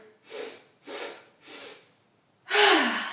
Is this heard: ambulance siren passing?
no